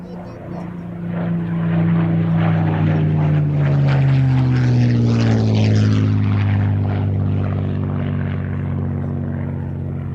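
An Avro Anson propeller airplane drones steadily nearby, its low engine hum shifting slightly in pitch as it passes, with voices talking faintly underneath.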